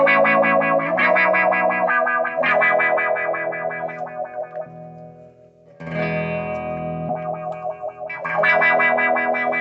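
An oddball guitar effects pedal is switched on, and the guitar comes through it heavily distorted and modulated with a chorus-like shimmer. Strummed chords swell and fade over several seconds, with a brief dip near the middle before a loud return.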